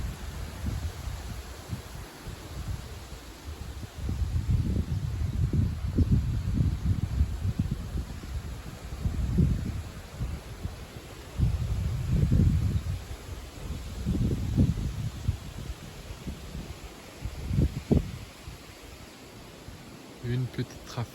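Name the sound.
gusty wind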